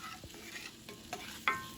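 Onions, garlic and pepper sweat in a pan, giving a soft, steady sizzle with a few scrapes of stirring and one sharper clink near the end, fairly quiet and close.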